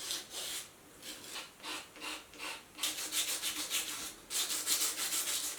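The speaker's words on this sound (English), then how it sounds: "Next step, sanding it." Rhythmic hand sanding, a dry scratchy rasp in repeated back-and-forth strokes, close by, speeding up into quicker, denser strokes toward the end.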